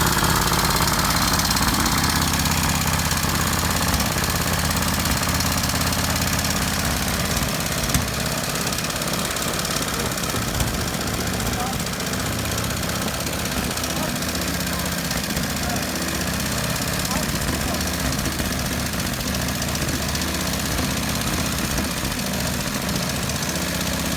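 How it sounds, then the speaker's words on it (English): A 1921 Royal Enfield motorcycle engine runs steadily nearby, giving a loud, continuous mechanical chugging roar with a rough, knocking texture that stays constant for the whole stretch. "Now this particular motor was introduced in 1921 by Royal Enfield, and it's still running today."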